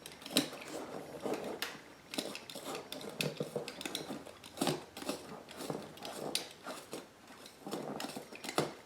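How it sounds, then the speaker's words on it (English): Scissors snipping fabric for harness inserts, a steady run of close, quiet crisp cuts and clicks coming in quick irregular bursts with no talking. "I'm just going to cut off, and I'm going to separate it with my fingers as I'm cutting"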